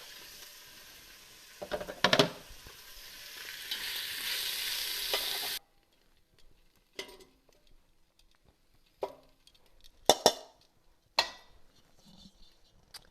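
Beef pieces searing in a pot for stew, a brief loud sizzle that cuts off abruptly, followed by scattered scrapes and knocks of stirring.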